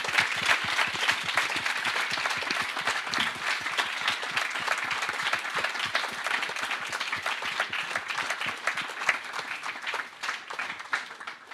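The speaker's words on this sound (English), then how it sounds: "A round of applause for all these people," An audience at the Hertie Summit alumni reunion gives steady, dense applause that runs for over ten seconds with no let-up, filling the room with many hands clapping.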